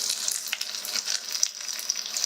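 Swiss chard frying in olive oil in a pan, a loud, steady crackling sizzle with bright popping spatters throughout and no voices.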